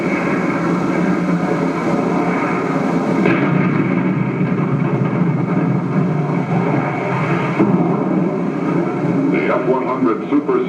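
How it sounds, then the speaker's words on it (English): High-explosive and armor-piercing incendiary rounds are fired against a jet fighter target, heard as heavy rumbling bursts of gunfire in long sustained stretches, with narration over the sound. "High-explosive and armor-piercing incendiaries destroyed the fighter."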